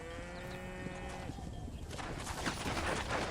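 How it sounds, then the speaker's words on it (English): A cattle herd in the Red Dead Redemption video game lows and bleats close by, with drawn-out calls early on and then a busier jumble of animal noise and movement. "That's a fine herd we got ourselves."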